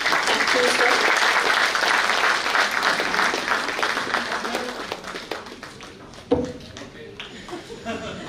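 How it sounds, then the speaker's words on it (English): A conference audience applauds a guest speaker at a round table event. The clapping is loud and sustained at first, then slowly thins out, with a few scattered claps and light chuckles near the end. "Please, may we have a big round of applause for him."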